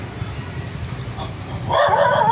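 A dog yips and barks a few times at close range, a short excited outburst at the end of a stretch of quiet background noise.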